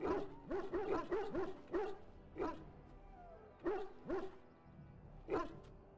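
A dog barks repeatedly in Dragon Age: Origins, sharp woofs coming in quick bursts at first, then spaced further apart, close and fairly loud with no talking.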